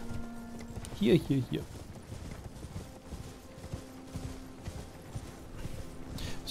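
A horse galloping while being ridden in the video game Elden Ring, rhythmic hoof clip-clop with a brief louder burst, heard under a man's quiet speech.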